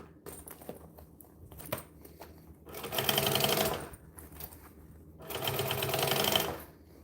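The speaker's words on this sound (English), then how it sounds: "I'm going to fold that down and top stitch just the line of the exterior" A sewing machine top stitches a bag in two close bursts of rapid, even rattling, each lasting about a second or more, separated by quieter handling sounds and fabric shuffling.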